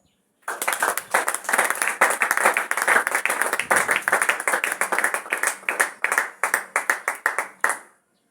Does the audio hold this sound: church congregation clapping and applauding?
yes